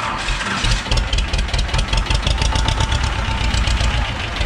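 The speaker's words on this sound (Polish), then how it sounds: "Spalimy zaraz maszynę i jedziemy." A T-25A2 tractor engine cranks and catches, then runs with a loud, rough, rapid knocking diesel rhythm close by, out on a wet field.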